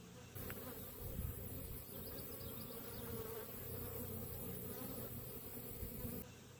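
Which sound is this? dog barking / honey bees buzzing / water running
honey bees buzzing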